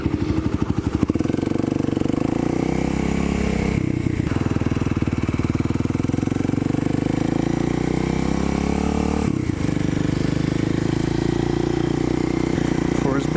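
A Kawasaki KLX motorcycle putts slowly through a storm-hit town, its engine a steady mid-pitched drone with slight shifts in throttle, close and continuous throughout.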